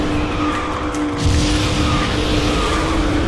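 A kart drifting and skidding in the KartRider racing game, a steady loud tire screech with engine noise running continuously through the short stretch, with no talking.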